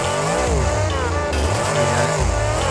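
The Grave Digger monster truck's engine roars loud and close at a monster truck show, revving and surging continuously as it powers out, with a wavering engine pitch and a voice faintly audible beneath.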